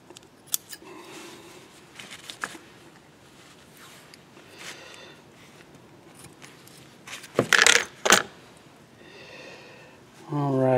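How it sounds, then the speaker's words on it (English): Quiet handling noises and a few sharp snips of scissors, with two louder bursts of black tape being pulled and cut near the end, then a voice begins. "Grab a pair of scissors."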